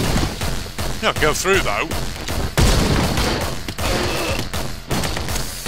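Rapid, loud gunshots from the video game Anger Foot burst out in quick succession amid game noise, while someone talks excitedly over the action.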